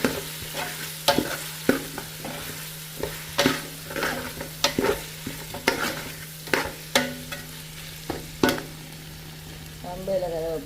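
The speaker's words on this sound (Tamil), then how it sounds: "ரம்பையில் கருவேப்பிலை சேர்த்தாச்சு வதக்கி கொஞ்சம் நல்லா வதக்கி கொண்டு வருகிறது" Chicken with curry leaves sautés in a pan over a low sizzle, while a spoon knocks and scrapes the pan in a steady series of sharp stirring strokes.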